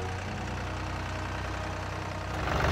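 A vehicle engine idles steadily on a farm, a continuous close low rumble with a slight rise in revs near the end.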